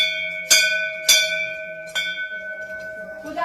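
Temple puja bell struck three times in a slow, uneven rhythm, each clear metallic strike ringing on with a long sustained tone, close and fairly loud, with a faint rustle at the end.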